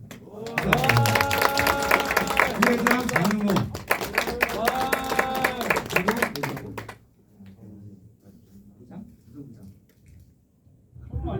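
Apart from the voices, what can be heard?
audience applause for introduced student officers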